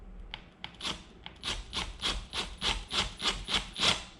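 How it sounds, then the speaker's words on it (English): A screw is being started by hand into a mark on a window frame for a cordless blind bracket, giving a series of rhythmic rasping, scraping turns that grow steadier and louder over a few seconds, with no talking. "So I get the screw and I'm just gonna start it right on that mark."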